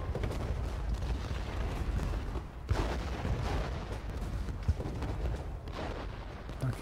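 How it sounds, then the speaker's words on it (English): Artillery fires in the Ultimate General Gettysburg video game as scattered low booms and rumbling under busy battle noise, with a voice talking over it. "Now their artillery is firing upon our artillery."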